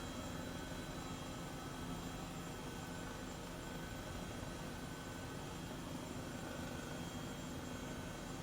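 An Airbus H135 helicopter at full throttle in Microsoft Flight Simulator VR gives a steady, loud, unbroken turbine and rotor roar, with no speech over it.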